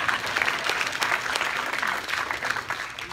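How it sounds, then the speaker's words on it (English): Church congregation at a Sunday morning service applauding, a dense, even wash of clapping held at steady volume throughout. "Give her a clap of praise."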